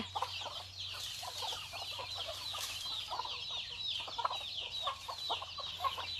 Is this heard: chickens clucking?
yes